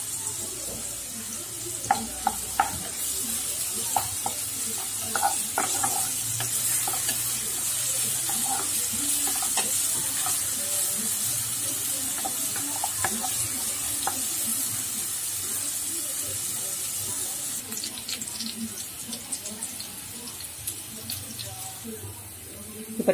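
Onions, ginger, garlic and green chili frying in a pan for bread rolls, with a steady sizzle and repeated scraping stirs and clinks of the spoon throughout, close and continuous.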